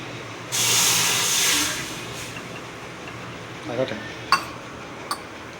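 A sudden loud hiss as coconut water hits a hot pan bursts out, then settles into a quieter sizzle, with a few metallic clinks of utensils afterward.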